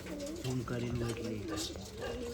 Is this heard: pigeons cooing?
yes